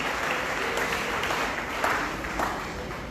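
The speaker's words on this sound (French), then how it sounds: "On va nous applaudir tout à l'heure." Audience applause at a church gathering, a dense steady wash of clapping throughout, close and loud with a few sharper claps standing out.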